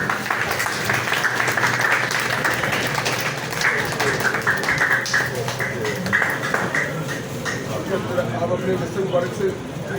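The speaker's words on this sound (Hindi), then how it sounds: "जोरदार तालियां" Sustained applause from an audience fills the whole stretch, with voices mixed in beneath the clapping.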